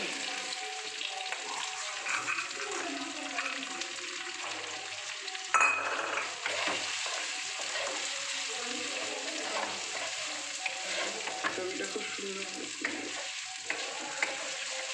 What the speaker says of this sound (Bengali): এটা আমি হালকা করে ভাজব ডাল